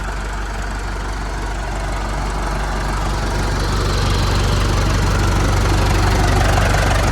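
A Massey Ferguson tractor's diesel engine runs steadily just after starting, a loud, close, continuous chugging drone that grows slightly louder and rougher as it goes, with no talking.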